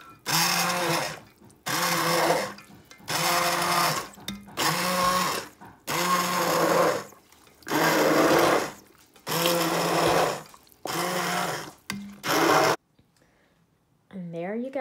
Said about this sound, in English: I use an immersion blender, and I'm super duper careful that I don't scratch the bottom of my pan.